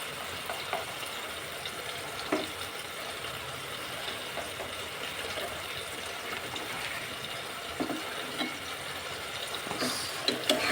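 Koi fish being fried and stirred with greens in a pan give a steady low sizzle and wet bubbling, with a few sharper scraping clicks of the spatula scattered through.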